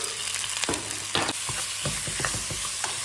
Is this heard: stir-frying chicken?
yes